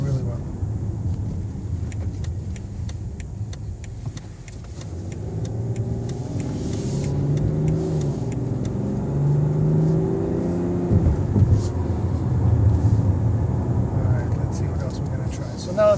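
A 2014 BMW X5 35d drives over a bumpy road: a low, steady cabin drone with occasional light knocks and clicks, while someone talks over it for part of the time.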